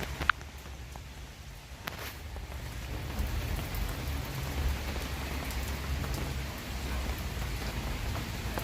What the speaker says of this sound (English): So it was raining for about half an hour